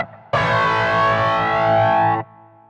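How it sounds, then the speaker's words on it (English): Electric guitar run through the flanger effect of a Zoom GFX 707 multi-effects pedal, a single sustained distorted chord ringing loud for about two seconds with a slow sweeping shimmer, then cut off. No one speaks. "There's a flanger."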